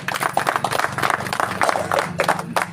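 A crowd at a human rights day gathering claps to welcome guests, a short burst of steady, moderately loud applause with a faint low hum under it.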